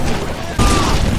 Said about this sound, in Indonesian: jagoan melempar batu salah satu ranjau dan meledak